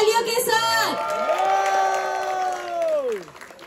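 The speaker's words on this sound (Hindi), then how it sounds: "आपकी तालियों के साथ" An audience claps at a school annual function while a loud voice cheers or calls out in long, sustained tones over the clapping, which fades out near the end.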